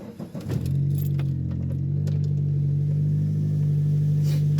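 Turbocharged hatchback car pulling away and cruising on a road near a highway, a steady loud engine drone and road rumble heard from inside the cabin, with a few faint rattles at the start.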